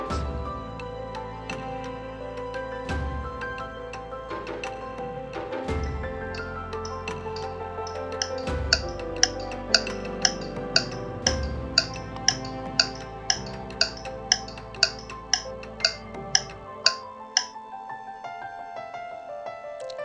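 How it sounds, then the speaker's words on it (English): A clock ticks as a quiz timer sound effect, sharp regular ticks about twice a second building in clarity over a layered musical bed, ending in a sudden cutoff. "Then I again search for clock ticking and use this audio for our"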